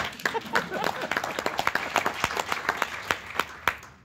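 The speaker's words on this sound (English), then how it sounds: "You can clap, I like clapping" A convention audience claps for a speaker at a 2018 NAMI event, a thinner scattered round of distinct claps with uneven rhythm, moderately close and fading near the end.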